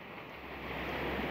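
Strong surf from a tidal flood on the north Java coast, heard as a steady broadband roar of waves mixed with wind buffeting the microphone, rising slightly in loudness and continuous throughout.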